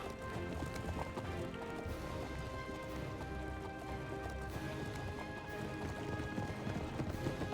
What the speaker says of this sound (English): And our cavalry shall ride on.